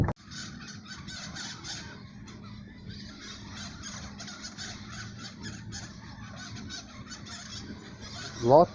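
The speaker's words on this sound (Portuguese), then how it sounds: "Lotado de papagaio." A dense flock of parrots squawks continuously from trees nearby, a steady raucous chatter throughout with one louder, closer call at the end.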